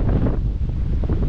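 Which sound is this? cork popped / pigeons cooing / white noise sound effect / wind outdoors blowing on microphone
wind outdoors blowing on microphone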